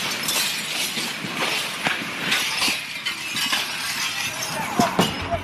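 Window glass in buildings shatters from a meteor's airburst shock wave, a dense, sustained spray of breaking and tinkling shards with scattered sharper cracks and clinks at moderate loudness.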